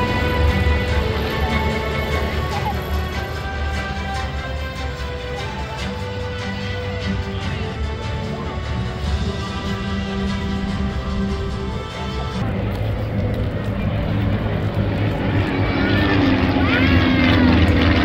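Falcon flight team propeller aircraft making a low photo pass at the 2023 Wings and Wheels airshow in Chickasha, Oklahoma, a loud sustained engine drone that shifts in pitch as the planes go by, with crowd sounds around.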